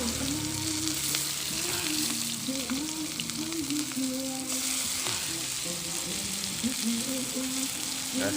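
Curry paste frying with coconut milk in a pan gives a continuous close sizzle and crackle, with stirring scrapes and a low hum underneath, steady and loud for the whole stretch.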